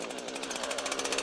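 A chainsaw engine running just after starting, a loud close steady buzzing drone with a rapid pulsing rhythm and rising slightly at the end.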